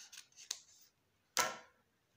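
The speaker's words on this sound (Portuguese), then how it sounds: "Vou sobrepor aqui, ó e vou cortar mais 7 centímetros." Scissors snip through satin ribbon: a pair of light, quick cuts near the start, then one sharper, louder crisp snip after a short pause, all close and alone in a quiet room.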